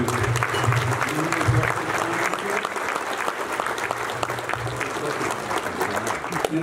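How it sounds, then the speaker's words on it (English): Steady applause from a conference audience honoring sponsors at a trucking Hall of Fame event in Orlando, a full, even roar of clapping sustained throughout with faint voices mixed in. "Could you give a round of applause to Best Pass and Isaac"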